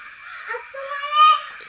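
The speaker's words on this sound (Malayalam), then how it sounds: "കാക്കയൊക്കെ നന്നായിട്ട് കരയുന്നുണ്ട്." Crows caw outdoors in one short, harsh call close by, with a faint background hiss.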